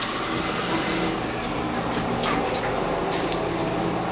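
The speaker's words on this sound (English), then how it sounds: "Shower has very good pressure." A hotel room shower runs hard with strong water pressure, a loud, continuous hissing spray that stays constant throughout with no voices.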